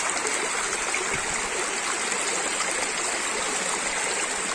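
A babbling stream runs through a forest, its steady close gurgle and splashing water continuous throughout without any voices.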